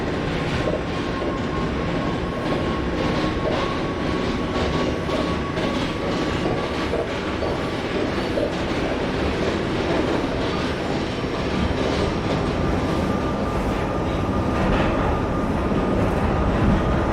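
A simulated NYC Subway R68 train on the N line to Coney Island runs steadily, with a continuous loud rumble of wheels on rail and a faint, steady whine throughout, without pauses.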